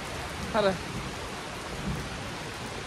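Heavy rain falls outdoors at the Zhambyl museum in the mountains, a steady, full hiss that fills the whole clip, with a brief voice heard faintly near the start.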